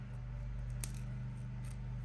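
Scissors snipping paper for a planner page, two quick crisp cuts spaced about a second apart over a steady low background hum, with no talking.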